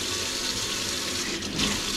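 Tap water runs steadily into a sink to dampen a stack of folded kitchen paper towels, a close, even hiss and splash that continues throughout with a brief change in flow near the end.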